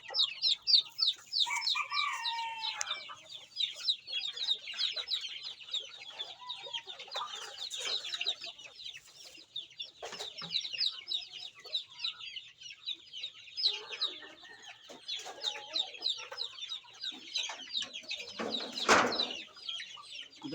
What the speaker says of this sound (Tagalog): Magpapakain naman tayo ng mga sisiyo natin. Ito yung bagong pisa natin.